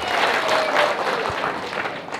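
A crowd at a CCM political rally applauds for Dr. Samia, with dense, continuous clapping at a steady level.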